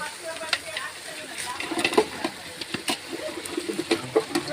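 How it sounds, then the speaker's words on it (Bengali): Meat stirred into fried spice masala with tomato in a pan for party biryani, giving a steady low sizzle with scattered scraping and clacking strokes of the spoon at an irregular rhythm, close and moderately loud. "এবার মাংসগুলো দিয়ে নাড়াতে থাকবো"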